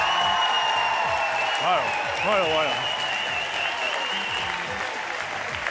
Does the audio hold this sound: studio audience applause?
yes